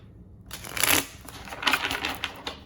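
Smith-Waite Centennial edition tarot cards being shuffled by hand, two quick riffling bursts of crisp card flutter separated by a short pause, close and fairly quiet with no talking.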